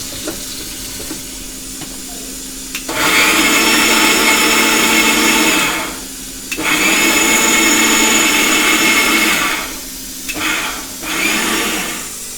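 A kitchen mixer grinder whirs loudly while grinding mint chutney, running in two long bursts with a short pause between them and a brief final pulse.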